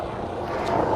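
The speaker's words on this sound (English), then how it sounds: "Okay, we got the police helicopter here." Police helicopter flying low overhead in windy conditions, a steady broadband rotor roar close by with wind buffeting the microphone, lasting under a second.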